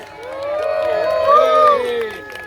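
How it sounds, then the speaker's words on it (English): A crowd at an outdoor gathering at memorial gardens in York cheers briefly, a loud swelling shout of many voices that rises, peaks and fades within a couple of seconds. "big cheer for active patriots"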